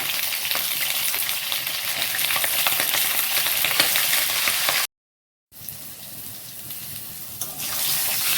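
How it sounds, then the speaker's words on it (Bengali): Steady, dense sizzling of pointed gourd frying in oil with salt and turmeric, close and loud, broken by a brief silent gap before the hiss resumes. "এবার আমি পটলগুলোকে সুন্দরভাবে ভেজে নেব"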